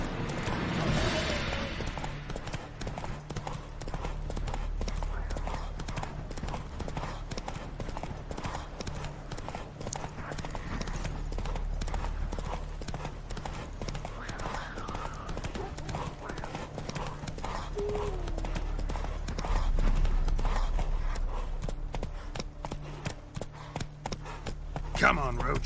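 Horse hooves clip-clop steadily at a gallop in The Witcher 3, a continuous rapid rhythm over game music and ambience, with a brief whinny midway.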